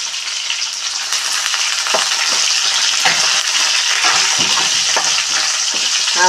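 Three dried red chillies fry in hot oil in a pan with crushed garlic and ginger, giving a steady loud sizzle throughout, broken by a few soft stirring scrapes.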